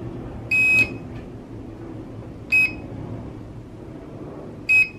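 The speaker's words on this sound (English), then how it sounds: "It does unfortunately beep all the time." A Holystone HS200D drone controller emits three electronic beeps, a longer tone followed by two short ones spaced about two seconds apart, over a low room hum.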